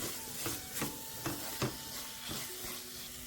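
Fenugreek and turmeric powder fry in hot oil for a fish curry, a soft steady sizzle broken by several sharp scraping strokes of a spoon stirring the pan, with no talk.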